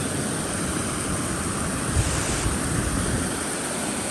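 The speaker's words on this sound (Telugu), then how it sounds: "ఈ మొత్తం వాటర్ అయితే అలా ఫ్లో అవుతా ఉందన్నమాట కిందికి" Steady rushing water noise, broad and continuous, as water pours over a lake overflow spillway, with some wind buffeting the microphone.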